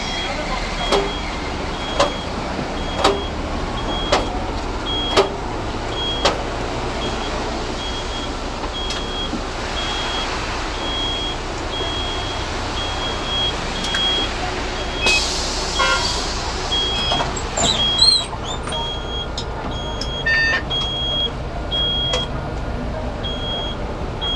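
Ride on a city bus in China: a steady, loud engine and road rumble fills the cabin, with scattered sharp clicks and knocks and a run of electronic beeps near the end.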